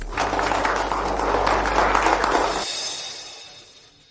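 A burst of applause greets a newly announced group president, a dense wash of clapping that holds steady for a couple of seconds and then fades out quickly.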